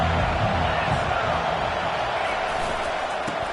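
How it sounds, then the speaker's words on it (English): A college football stadium crowd roars as a dense, steady wash of noise without a break. "This crowd bringing the energy and noise early."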